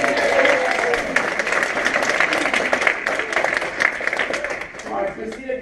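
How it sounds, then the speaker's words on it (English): A comedy show audience applauds a volunteer coming up on stage, steady full-room clapping at moderate loudness that holds evenly and thins slightly at the close. "Give Christina a round of applause."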